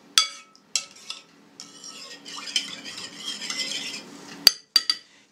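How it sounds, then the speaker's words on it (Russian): A utensil stirs yeast into water in a bowl, producing sharp clinks against the side and a soft, swishing scrape between them, close and clear against otherwise quiet surroundings. "Хорошенько перемешиваем дрожжи с водичкой"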